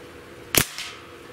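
A Beeman 1359 .25 caliber bullpup air rifle fires a single sharp, loud shot with a crisp crack, followed by a faint, brief impact sound moments later, with quiet background otherwise.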